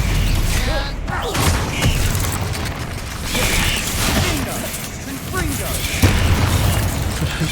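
Confringo blasting spells go off in Hogwarts Legacy combat, with repeated booming explosions and crackling bursts arriving every second or so amid a busy fight, while a voice shouts spell names over them.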